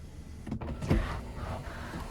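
Electric sunshade retracting in the roof of a 2018 Volkswagen Tiguan SEL, a quiet, smooth motor whir lasting about two seconds inside the cabin, with no talk.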